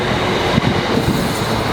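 Train at the Meridian Water station platform, a steady close rumble of rolling railcars with faint rhythmic wheel clatter, no voices.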